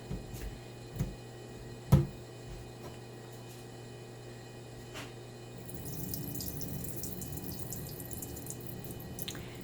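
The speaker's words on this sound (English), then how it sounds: "And then we're going to put the cheesecloth back on the top and drain it again." Liquid for rejuvelac drains through cheesecloth, a steady soft trickle and patter that begins after a few quiet knocks and a brief clunk, then continues evenly to the end.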